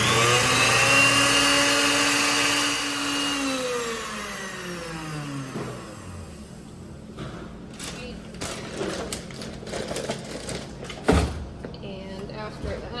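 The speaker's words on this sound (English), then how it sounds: "So now we want to grind them for at least 30 seconds." Chicken livers ground in a small electric grinder or blender, a loud steady whirring motor with falling pitch that winds down after a few seconds, followed by quieter clatter and handling noises.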